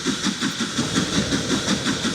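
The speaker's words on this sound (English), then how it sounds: "Oh, what a nice sounding train." A steam tank engine in Transport Fever 2 chuffs in a steady rapid rhythm of hissy exhaust beats, close and fairly loud over a continuous background hiss.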